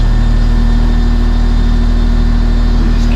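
An engine idles low and steady, a loud, constant rumble with a regular pulsing throb close by, no revving.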